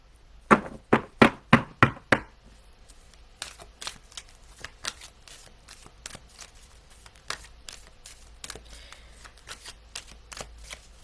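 Oracle cards shuffled by hand in a quick run of five or six loud, crisp riffle bursts, then a longer stretch of softer, irregular shuffling taps and flicks, close and alone without talk.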